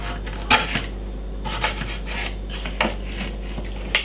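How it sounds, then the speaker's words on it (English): A knife chops ginger on a board with a few sharp, irregular taps, close by, over a low steady hum. "I'm going to just cut up a little piece of a ginger"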